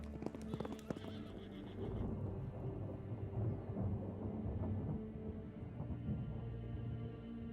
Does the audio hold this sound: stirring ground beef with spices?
no